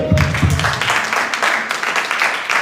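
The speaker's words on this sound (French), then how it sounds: "Alléluia, acclamons pour Jésus-Christ." A church congregation claps for Jesus Christ, a dense, fairly loud wash of many hands applauding together in a sanctuary, steady throughout with a voice briefly heard at the start.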